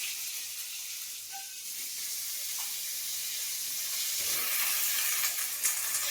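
Eggplant pieces hit hot oil in a pan for a Bengali shukto with beans, sending up a steady, close sizzle and hiss that swells louder toward the end, with faint stirring clinks and no talking.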